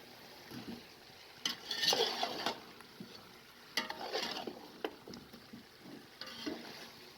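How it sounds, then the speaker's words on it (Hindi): Stirring and scraping tomato masala in a pot with a soft sizzle underneath, irregular spoon strokes against metal, nearby and fairly quiet, while cooking chicken pulao. "और 8 से 10 मिनट तक मज़ीद अच्छे तरीके से भून लें।"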